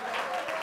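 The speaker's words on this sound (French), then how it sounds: "une bonne main d'applaudissement." A brief burst of crowd applause for an honoree at a gala finalists' announcement event, a dense wash of many clapping hands heard only for a moment.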